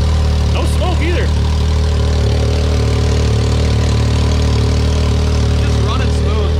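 A rebuilt Can-Am X3 side-by-side engine idles steadily and loud up close, a constant low rumble with a faint rattle and no revving throughout.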